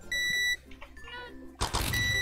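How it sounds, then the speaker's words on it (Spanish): A game alarm in Penguin Heist gives a steady electronic beep followed by shorter scattered blips, then a loud harsh noisy burst cuts in and takes over. "Menos mal que me ha pillado mi alarma"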